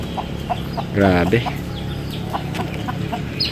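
Rhode Island Red chickens clucking at a backyard feeding spot, a close burst of clucks rising then settling into scattered softer calls, with a brief spoken word.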